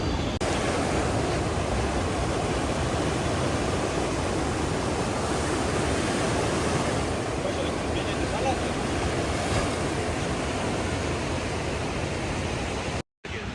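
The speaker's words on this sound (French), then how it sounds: "ici, il y a des vagues de ouf. c'est impressionnant" Ocean surf crashing continuously on a beach in India, a loud, steady wash of breaking waves and wind filling the whole stretch with no pauses.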